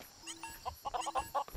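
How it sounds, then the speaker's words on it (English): A chicken in the video game LEGO Worlds clucks several times in short, bright bursts, fairly close, over a faint game background with no talking. "there's a chicken here"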